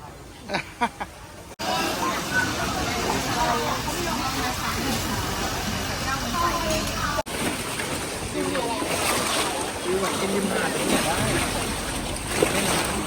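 Water surges and washes in steadily at a riverside restaurant in Nonthaburi, a broad rushing wash with wind buffeting the microphone, while people talk in the background.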